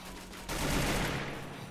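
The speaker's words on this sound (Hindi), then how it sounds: "पीछे से भी फायर आ रहा है।" Gunfire in a competitive mobile shooter match, a sustained burst of rapid shots starting abruptly and running steadily for over a second, fairly loud and with no talking over it.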